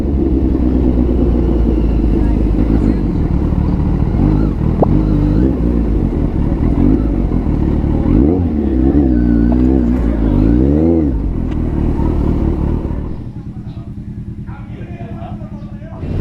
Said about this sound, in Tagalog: Yan guys, tignan nyo, napakaraming motor.